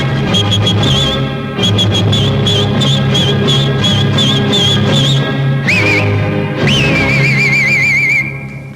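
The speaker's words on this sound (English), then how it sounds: "You're going to hear an amazing display of whistling." Agile human whistling by a whistling champion and Navy petty officer, with rapid trills, slides and sustained high notes, loud and close over a steady background of music or crowd noise.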